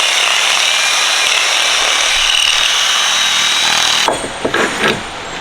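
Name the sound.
drilling through a metal mount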